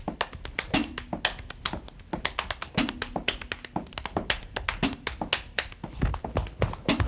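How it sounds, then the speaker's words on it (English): A drummer taps fast rhythms with his hands on his body, producing crisp, dry slaps and pats in quick patterns. The hits are close and clear, with a few soft low thumps mixed in. "being able to play on your body."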